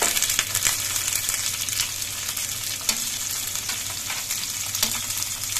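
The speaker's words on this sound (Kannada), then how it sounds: "ಇದು ಒಳ್ಳೆ ಫ್ರೈ ಆಗಬೇಕು, ಬೆಳ್ಳುಳ್ಳಿ." Crushed garlic fries in a pan with curry leaves and chopped green chilies for an egg fry side dish. A steady, close hiss of hot oil runs throughout, with occasional clinks and scrapes of stirring.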